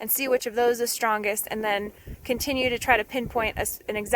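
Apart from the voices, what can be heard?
None of the usual background noises is heard.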